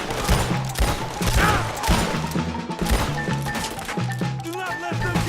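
Twin pistols fire in Red Dead Redemption 2, sharp repeated shots and cracks in a busy in-game scene, with voices and music-like tones mixed underneath.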